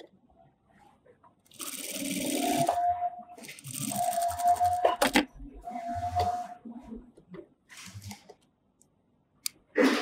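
A sewing machine stitches fabric for a placket in three bursts of rapid, buzzing mechanical whirring, separated by brief pauses and small clicks, with the machine close and fairly loud.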